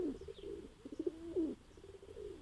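Domestic pigeons kept by a hobbyist in Ankara coo in low, throaty rolling phrases, several repeated calls close by over quiet background, with no voices.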